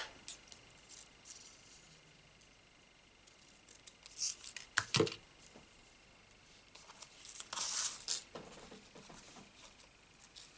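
Scissors snip off ribbon ends during card-making, giving a few quiet, crisp cuts with a sharper pair of snips in the middle and a rustling cluster near the end, all against a very quiet room.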